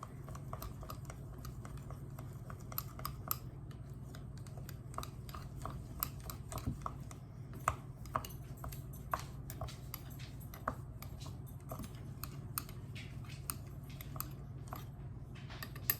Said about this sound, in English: So I'm going to just stir that really well.